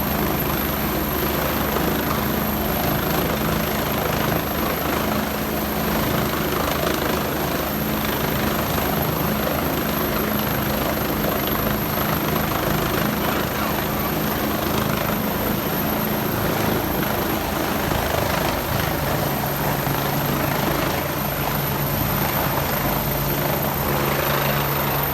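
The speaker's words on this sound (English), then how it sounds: "you can see the helicopter taking off" A helicopter taking off roars loudly and steadily, its rotor and engine noise continuous and close throughout.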